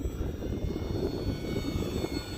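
A Durafly Tundra V2 high-wing STOL radio-controlled airplane drones steadily in flight on a windy day, its engine hum mixed with rough wind noise throughout.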